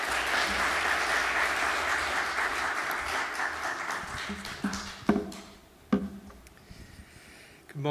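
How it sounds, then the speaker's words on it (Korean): A church congregation applauds together, a dense wash of many hands clapping that holds steady and then thins out into a few scattered late claps and taps. "그럼 박수로 함께 맞이하도록 하겠습니다"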